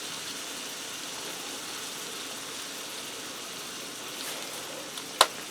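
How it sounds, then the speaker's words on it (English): Onion smashed burgers frying in a skillet, a steady soft sizzle running throughout at moderate loudness, with a single sharp click near the end. "I'm going to allow these to fry for a few minutes till the onions start to caramelize and the burgers get brown on that side."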